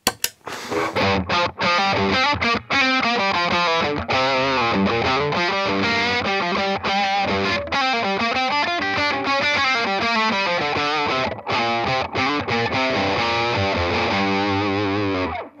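Electric guitar run through a Centaur overdrive pedal, played as continuous distorted chords and riffs for the whole stretch, loud and close with steady sustain and brief breaks between phrases.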